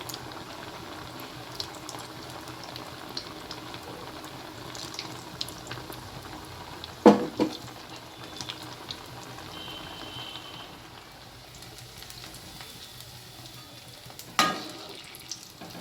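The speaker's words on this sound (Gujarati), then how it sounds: "આને તળી લઈશું. હવે આ રીતની તેલમાં નાખી દઈશું." Potato rings frying in hot oil in a home kitchen: a continuous bubbling sizzle throughout, broken by two brief louder clatters, with no talking.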